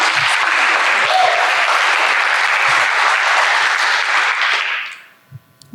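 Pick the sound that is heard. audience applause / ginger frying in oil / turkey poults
audience applause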